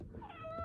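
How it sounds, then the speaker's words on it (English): A pet cat gives a single short meow close by, rising then drawn out, heard clearly over a low room hum. "sorry, that's my cat."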